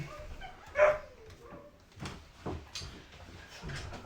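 Dogs bark outside at a passer-by walking another dog, giving a few short, moderately loud woofs and whimpers with pauses between them.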